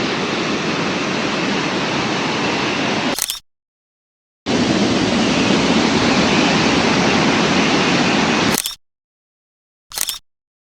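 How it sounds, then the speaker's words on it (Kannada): Kodige waterfall near Kudremukh in full flow, a loud steady broadband roar of rushing water heard close, cutting out twice in abrupt breaks with a brief final burst near the end. "ನೋಡಿ ಕೊಡಿಗೆ ಫಾಲ್ಸು. ಅಪ್ಪ ಏನು ನೀರು, ಫುಲ್ಲು."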